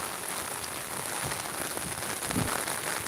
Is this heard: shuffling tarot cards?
no